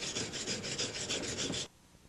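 A metal T-joint for aircraft welding is scrubbed clean with quick, rhythmic rasping strokes, about eight close scrapes in a row before it stops abruptly; no one talks.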